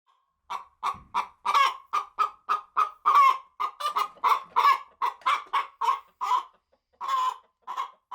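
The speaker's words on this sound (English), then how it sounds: "Come here, chicken." Hens cluck repeatedly in a steady run of short, sharp calls close by, heard alone in a quiet setting.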